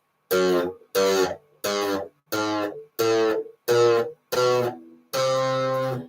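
A run of eight plucked guitar notes climbs step by step in pitch, evenly spaced and close, with the final note left to ring.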